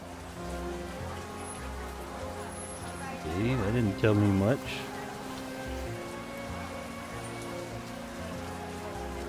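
Rain falls on a street in the video game World of Goo 2, a constant soft hiss running the whole time, with someone speaking briefly midway over it.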